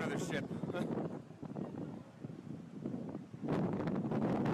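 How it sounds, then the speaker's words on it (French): Stormy wind blows loudly near a large cruise ship in rain, with rushing gusts that swell strongly toward the end. "il y a du vent, il y a du vent!"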